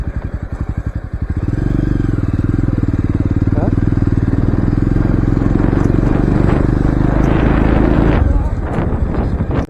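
A motorcycle engine idles and revs with a steady low rumble close by during a bike tour near Plassey in Murshidabad, with wind buffeting the microphone and a voice talking over it before the engine cuts near the end.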